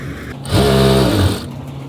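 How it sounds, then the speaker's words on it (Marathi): A sewing machine runs a short straight seam, stitching canvas onto kurti fabric at the neckline; a loud steady motor whir lasts under a second, with quieter room sound before and after. "पहिले आपण मध्ये शिलाई मारून घेऊ एक पाच नंबरची शिलाई मारायची"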